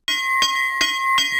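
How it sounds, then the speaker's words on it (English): School bell ringing on a Monday morning in a cartoon, a loud, bright electric bell sounding continuously with rapid strikes pulsing about every 0.4 seconds, heard alone. "It's Monday morning and the school bell rings."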